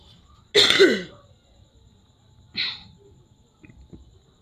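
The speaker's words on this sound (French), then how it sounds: "Excusez-moi pour la toux." A person coughs during a prayer, with one harsh throaty cough followed by a shorter second cough, then a few faint breathy sounds, close and otherwise quiet.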